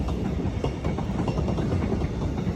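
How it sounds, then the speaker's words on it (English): A train rolls past close by, a steady loud rumble with rhythmic clickety-clack of wagon wheels over rail joints, no voices. "here comes the train now"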